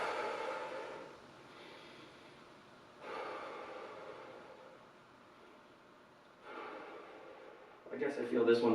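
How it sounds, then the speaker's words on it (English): Deep breaths drawn in and blown out during a pre-exercise warm-up stretch, heard as three slow, airy swells of breath, soft and close, with a sharper louder exhale at the end. "Big breaths all the way in, all the way out."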